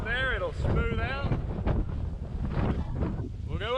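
Wind buffeting the microphone aboard a sailboat crossing a wavy channel in the Caribbean, a steady rough rush under a person speaking, with whistling tonal sweeps now and then.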